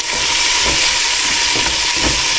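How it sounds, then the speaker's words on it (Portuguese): Linguiça sausage frying with garlic in a pan for feijoada gives a loud, close, continuous hissing sizzle with faint spatter pops, and no voices are heard. "Vamos agora fritar um pouquinho essa linguiçinha."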